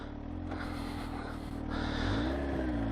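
Engine of a 2018 Kawasaki H2 SX motorcycle pulling away on a ride, a steady close drone that rises in pitch and loudness as it accelerates.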